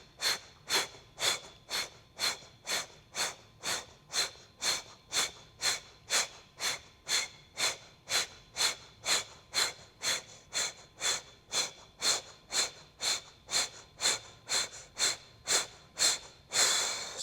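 Short, forceful exhales pushed out through pursed lips during an abdominal breathing exercise, a long steady train of evenly spaced breathy puffs, close and loud.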